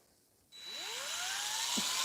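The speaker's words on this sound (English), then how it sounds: "I'm also not drilling at full speed because that's not good for the drill bit." A power drill starts abruptly and whines steadily while boring through metal at reduced speed, its pitch rising slightly as it bites, close and continuous with no talk.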